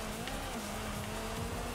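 An S1-class race car in Forza Horizon 5 on a dirt race, its engine holding a steady, dense drone throughout with a constant low hum and no pauses.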